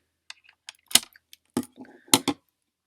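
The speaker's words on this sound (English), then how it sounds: "then you're going to cut off your extra string" Scissors snip excess string from a beaded kandi Pac-Man ghost craft, giving a few sharp, close clicks and rustles spaced about half a second apart, with no talking.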